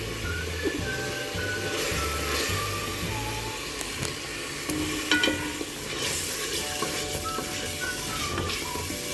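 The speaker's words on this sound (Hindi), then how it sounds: "अब मैं इसके मसाले को साथ साथ भूनती जाऊंगी" Spice masala with salt, chili and turmeric frying and being stirred in a pan for mutton keema, a soft continuous sizzle with scraping stirring strokes throughout and no talk.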